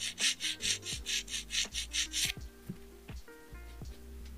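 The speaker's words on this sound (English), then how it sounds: "that'll just need a little bit of filing, keeping everything nice and straight" A nail file is worked over an acrylic nail in quick, even back-and-forth strokes, about a dozen rhythmic rasps up close, then stopping as softer handling noises follow.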